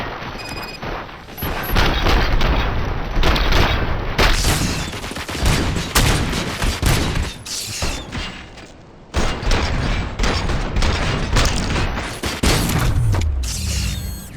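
Heavy gunfire in the RoboCop: Rogue City video game on PS5: rapid sustained bursts of shots with booms and mechanical clatter, loud and close, briefly pausing before resuming.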